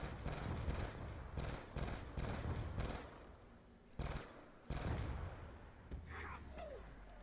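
Rapid gunfire in Call of Duty zombies, a string of loud, close bursts of shots with brief gaps between them, closing with a softer tail of game effects.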